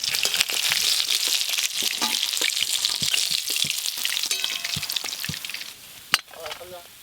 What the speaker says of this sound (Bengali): এই মাছগুলো যা আছে সব একবারেই ভেজে নেব।